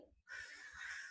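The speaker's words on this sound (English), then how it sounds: "The crows are really making a lot of noise this morning" Crows caw outside in the morning, a single harsh, raspy call that is fairly faint and carries over quiet background noise.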